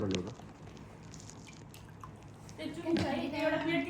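Water being poured at a lively evening music gathering: a short trickling, splashing run near the end, under and between people talking.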